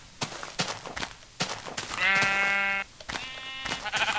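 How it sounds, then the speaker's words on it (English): Sheep bleat in Minecraft, two drawn-out wavering calls in the middle alongside sharp, dry clicks and footstep-like taps, with no talk. "Let's kill some sheep."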